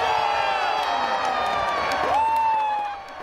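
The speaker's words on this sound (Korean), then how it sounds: "출구조사 결과가 나오자 환호성이 터져 나옵니다" A crowd of Labour supporters erupts in loud cheering, whoops and high shouts as UK general election exit poll results are announced, sustained and then easing slightly at the end.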